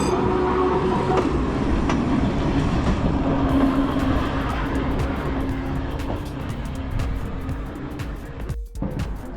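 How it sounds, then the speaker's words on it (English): Toy train rolling along the Brighton seafront, a loud continuous rumble with rattling and clacking that gradually eases over several seconds, set in an outdoor seaside street ambience. "That's the toy train I was just mentioning."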